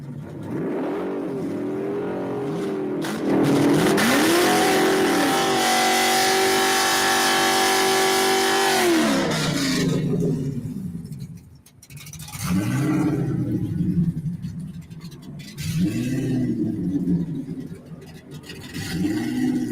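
A fast tuned car, fitted with a VMP supercharger and Lund Racing tune, roars as the engine revs and accelerates hard through rising gears, then drops off and pulls again, loud and close.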